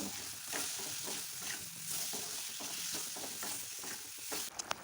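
Steady oil sizzle from a hot pan of spices with bhut jolokia chilli, with faint stirring scrapes scattered throughout and a few sharper clicks at the very end.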